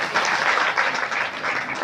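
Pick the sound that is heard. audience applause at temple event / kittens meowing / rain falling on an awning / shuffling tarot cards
audience applause at temple event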